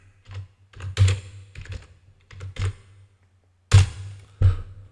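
Keys clatter on a computer keyboard in short, uneven bursts of typing, close and clear, with brief pauses between groups of strokes and no talking.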